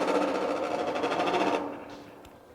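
A hand-built side blast forge blower spins with a steady mechanical whir and rattle, loud and close, then winds down and fades out near the end.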